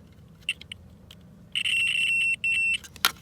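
A cable tester emits a steady high-pitched electronic beep for about a second, stops briefly, then resumes, with a few faint clicks before and a sharp click after.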